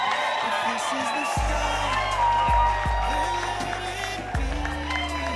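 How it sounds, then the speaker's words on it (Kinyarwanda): Wedding guests clapping and ululating in a busy room, a crowd wash of cheers and high trilling under loud amplified music with deep bass thumps and a voice over the top. "dukoma amashyi n'impundu nyinshi"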